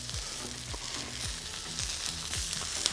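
Carrots sizzling on a hot brazier plancha while seafood is cooked outdoors, giving a steady, bright hiss of frying with faint scraping stirs underneath, continuous and close.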